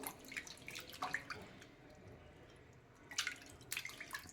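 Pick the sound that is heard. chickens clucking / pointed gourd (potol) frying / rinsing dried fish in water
rinsing dried fish in water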